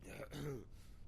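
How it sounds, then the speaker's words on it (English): A character coughs once in the horror video game The Outlast Trials, a short, close throat-clearing cough heard alone. "All right, so he's got a cough."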